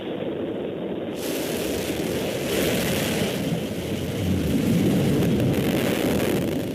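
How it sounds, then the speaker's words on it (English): The BE-3 engine of a Blue Origin New Shepard booster relights during descent, heard as a steady, loud, rushing roar that swells slightly and carries on without a break. "There's the relight of that BE-3 engine."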